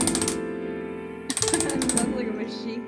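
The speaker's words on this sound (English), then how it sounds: "I'm just running my finger along my keyboard." A finger runs along a computer keyboard, producing rapid rattling clatters of keys in two quick bursts separated by a short pause, close and fairly loud.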